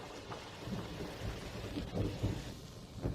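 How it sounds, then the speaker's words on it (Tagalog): Steady heavy rain with low rumbling swells like distant thunder, continuous and fairly loud, no voices. "umuulan pa ng malakas"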